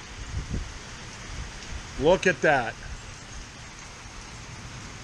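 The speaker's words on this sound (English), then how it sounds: "Now it's raining." Steady rain from a Florida storm hisses in the background while a person briefly speaks over it, with a few low thumps early on.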